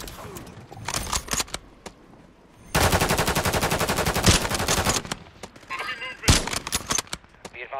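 Automatic gunfire rings out in the video game Warzone on Rebirth Island, with scattered shots, then a long sustained burst of rapid fire and further loud single cracks.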